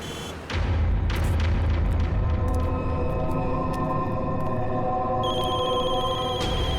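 Several telephones ring at once with many incoming calls in a busy office, with a steady electronic ringing over a loud, dense background wash.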